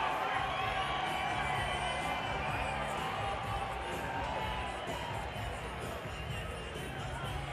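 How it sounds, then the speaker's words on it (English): A fight-night crowd roaring steadily after a first-round submission at Xtreme Fight Night, a dense, sustained wash of cheering and shouting from a large audience with a commentator talking over it. "and the crowd loves it"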